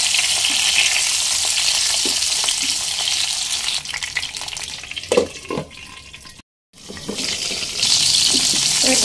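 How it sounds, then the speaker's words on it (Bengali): Pointed gourd (potol) frying in a pan over a medium flame: a steady, close sizzling hiss with occasional stirring scrapes, broken by a brief silent cut. "আমি পটলটা একটু নরম হয়ে আসা পর্যন্ত হালকা লালচে করে ভেজে নেব।"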